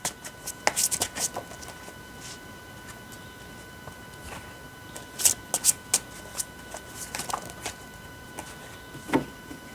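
Tarot cards being shuffled by hand, heard as soft, papery riffles and slaps in irregular bursts over a faint steady hum, close and without talk.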